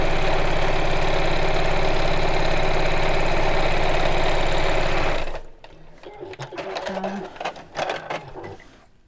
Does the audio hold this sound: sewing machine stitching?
yes